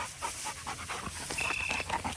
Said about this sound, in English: The hound dogs.